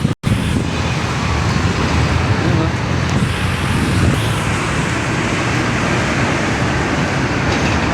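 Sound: road traffic on MacArthur Highway, Malinta, Valenzuela City

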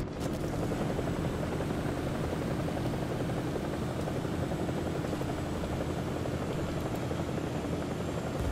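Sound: AH-1Z attack helicopter flying, from video game War Thunder

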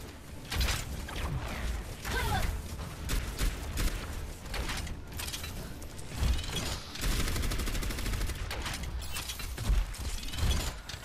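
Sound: gunfire in the video game Overwatch

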